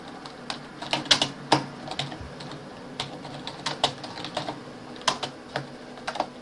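Quick, irregular clicks of typing on a computer keyboard, close and distinct, in short bursts with brief pauses between keystrokes.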